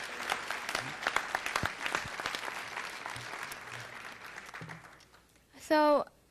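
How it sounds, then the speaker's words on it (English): Applause at a city council meeting as a speaker takes the microphone, steady clapping from a modest crowd that tapers off, followed by a brief squeal of microphone feedback near the end. "let's give Rebecca Richard a round of applause as she takes the microphone"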